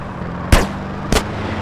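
Two sharp, loud gunshots ring out about half a second apart during a drive-by in GTA San Andreas, each a crisp crack over a low steady engine hum.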